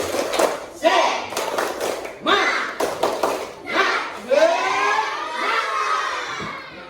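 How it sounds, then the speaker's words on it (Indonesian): A primary school class in Indonesia performs the tepuk semangat clapping cheer: bursts of patterned claps and thumps mixed with children's chanted shouts. It rises and falls in short rhythmic phrases, close and lively. "Kalau senang, coba kita tepuk semangat dulu ya."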